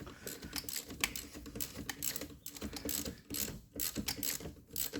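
A ratchet undoes the steering rack mount bolts on a Mark 1 Audi TT, rapid close metallic clicking in short bursts with brief pauses, no voices.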